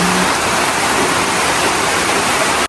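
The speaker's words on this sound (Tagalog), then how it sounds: "Kapag ka po ganitong malakas ang ulan ay nagpuputik." Heavy rain pours down steadily, a loud dense hiss of drops on surfaces that continues unbroken before cutting off abruptly.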